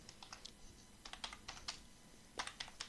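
Computer keyboard typing in a payroll accounting program, several quick bursts of close, light key clicks with brief pauses between groups.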